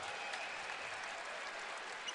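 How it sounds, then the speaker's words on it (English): A basketball crowd at a Minnesota Gophers exhibition game against Concordia St. Paul applauds in an even, sustained wash of clapping, faint and distant, with no distinct voices. "the ovation from the crowd"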